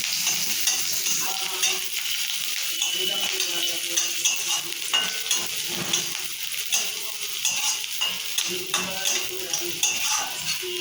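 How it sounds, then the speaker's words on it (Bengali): Onion with cumin fries in oil in a kadai while a spatula stirs it, a continuous close sizzle broken by rhythmic scraping strokes, no speech. "পেঁয়াজটা একটু ভাজা ভাজা হয়ে গেলে"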